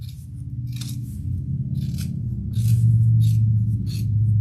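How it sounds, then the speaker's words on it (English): Scissors trim the fabric seam of a handbag, giving a run of crisp, close snips in an uneven rhythm, about eight cuts, over a steady low hum. "And trim your seam."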